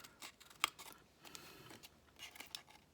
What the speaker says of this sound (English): Oh, Robin, you're just gonna have to cut it out